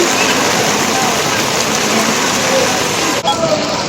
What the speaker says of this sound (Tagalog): Ayan, sobrang ulan ngayon.